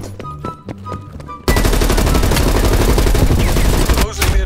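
Sustained automatic gunfire from a weapon in Call of Duty: Cold War, loud and continuous for about three seconds after a quieter stretch of game sound, then cutting off abruptly near the end.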